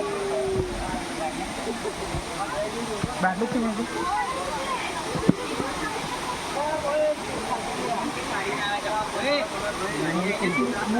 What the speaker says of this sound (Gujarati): ધોધ વહી રહ્યો છે જો તમે અવાજ સાંભળી શકો છો